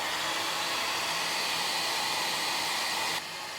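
A hot air gun blows steadily at close range while heating a Samsung Note 10 Lite phone for disassembly, a loud even whooshing hiss that drops off abruptly near the end.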